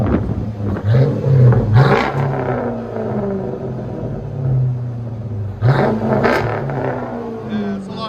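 A 2007 Chrysler 300C with a 5.7L Hemi V8 and Flowmaster Outlaw dual exhaust revs in two loud bursts, near and deep, with a steady idle rumble between them and voices talking over it.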